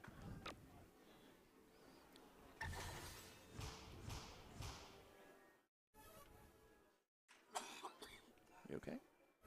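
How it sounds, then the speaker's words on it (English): A person has a coughing fit at a team darts event in Las Vegas, with repeated harsh coughs and thumps amid ongoing talk and venue noise. "having a cough fit here"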